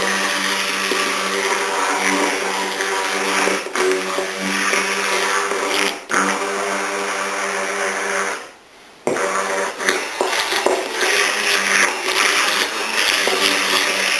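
Kitchen blender whirring steadily at high speed while mixing garlic aioli thickened with added oil, a loud continuous close drone with one brief dip in the middle before it resumes.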